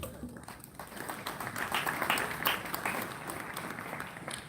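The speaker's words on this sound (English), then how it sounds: "that hand clap is courtesy of that message" Audience clapping at a school gathering after Mass at St. Mary's College Kisubi, a steady wash of many hands that swells slightly midway and carries on throughout.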